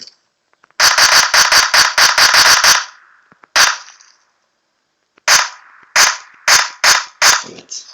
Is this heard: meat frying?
no